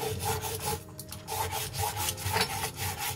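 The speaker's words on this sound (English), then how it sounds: "we're going to start with peeling our carrots here" Carrots being peeled, a steady close rhythmic scraping with repeated rasping strokes and no talk.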